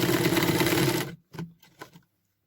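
Sewing machine stitching quilt patchwork, running in a steady, dense whir for about a second, then stopping, followed by a few soft clicks and thumps of handling.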